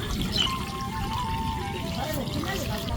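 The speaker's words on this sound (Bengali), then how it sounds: "কাঁঠাল সিদ্ধ হওয়ার জন্য পরিমাণ মতো পানি দিয়ে দেব।" Water pouring steadily into a pot of cut jackfruit, a continuous close trickle and splash over low background noise, with a voice talking faintly beneath it.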